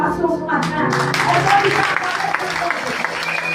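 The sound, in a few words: applause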